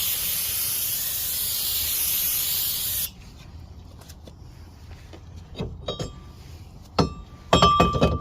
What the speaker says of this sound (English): Give it a couple more sprays.